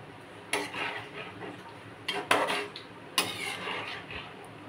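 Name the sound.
stirring chicken rezala in pot, then covering it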